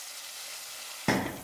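Ground masala paste drops into hot oil in a pan, and the soft background sizzle bursts into a louder, crackling fry that carries on close by.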